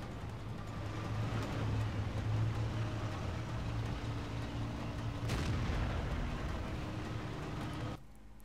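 Tank cannon fire and shell hits in the World of Tanks video game: a steady heavy engine rumble with a sharp blast partway through, loud and continuous.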